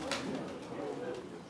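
Pigeons coo softly at a pigeon auction, their low murmuring mixed with a busy indoor hum and faint voices in the background.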